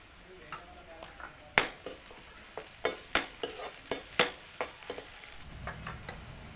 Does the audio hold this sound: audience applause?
no